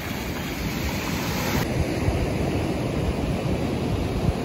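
Pacific Ocean surf washing up on Santa Monica beach in California, a steady loud broadband rush of breaking waves and foam that continues unbroken throughout, with no voices.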